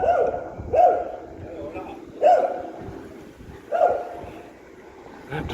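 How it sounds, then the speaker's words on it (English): A dog riding on a bike on a neighborhood street at night in Fengyuan, Taiwan, gives four sharp barks spaced about a second or more apart, heard over low street background. "That dog is on the bike and barking."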